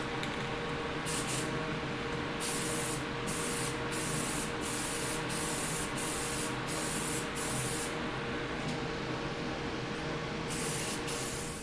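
A spray can coats a 1950s Zenith radio medallion in metallic gold paint, a close hiss delivered in repeated short bursts separated by brief pauses, with no talking.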